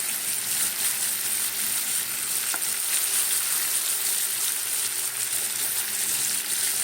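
Marinated chicken fries in refined oil with a dense, steady sizzle, close and loud, with faint stirring and no voices.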